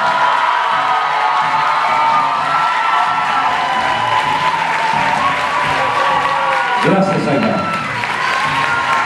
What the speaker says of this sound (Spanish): Fuerte aplauso para nuestra invitada internacional, Zaida Genú, y para la maestra Gada Canán.